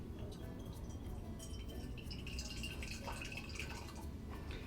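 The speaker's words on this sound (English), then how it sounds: "take your preferred teapot, add some boiling water" Boiling water pours steadily into a Wedgwood teapot, a continuous close splashing and trickling with dripping, loud and alone for several seconds.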